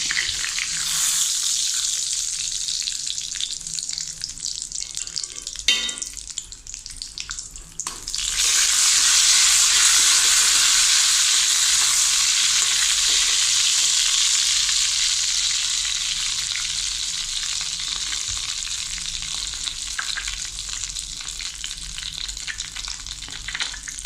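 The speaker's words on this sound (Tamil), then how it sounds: "அதில் இந்த நட்ஸு வறுக்க போகிறேன்." Nuts frying in a tablespoon of ghee in a kadai pan give a steady, loud, bright sizzle that holds throughout, swelling sharply after a brief lull and then settling into a dense continuous hiss.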